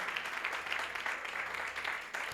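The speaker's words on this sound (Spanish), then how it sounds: "tu aplauso al que vive, al que reina." Rhythmic clapping from a church congregation, a faint, even patter pulsing in time, somewhat distant and continuous for a couple of seconds.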